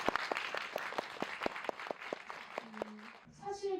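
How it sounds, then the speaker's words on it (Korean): Audience applause fills a cinema screening hall, dense steady clapping for about three seconds before it cuts to a brief murmur of voices at the end. "박수 한번 부탁드립니다"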